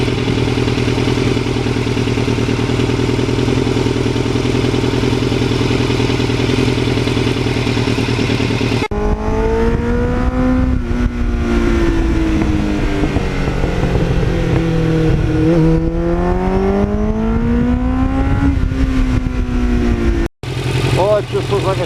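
A restored 1989 Kawasaki Ninja motorcycle being ridden, its engine droning loudly and steadily with rising and falling pitch as it speeds up and slows, mixed with heavy wind rush, a person speaking over it.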